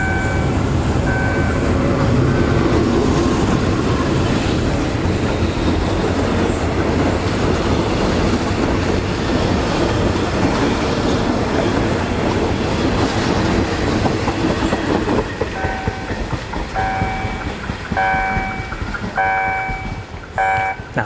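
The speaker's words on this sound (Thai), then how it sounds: "ขบวนนี้ผ่านผาเสด็จไปนะครับ" A Thai passenger train hauled by a GE diesel locomotive rolls past near Pha Sadet station in Saraburi, with loud rumbling wheels and steady clickety-clack. The noise thins as the cars go by and the engine's horn sounds near the end.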